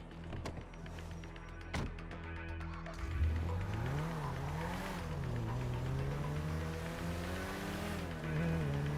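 A car engine idles, then revs up as the car pulls away and accelerates, the gear-shifting drone rising and falling in pitch over several seconds, close and fairly loud.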